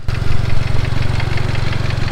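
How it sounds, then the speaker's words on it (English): A Ford Custom's new engine idles with a steady, rapid clacking tick over a low rumbling drone, heard up close and continuous with no talking. "He's got a little bit of a clacking noise in this new engine."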